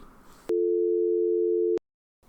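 A steady electronic telephone dial tone from X-Lite softphone software rings out for about a second, then cuts off abruptly into silence, bracketed by faint background noise.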